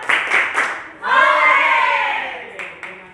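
Pupils in a classroom doing a rhythmic clap chant, with a few sharp group claps followed by children chanting in unison, then more claps.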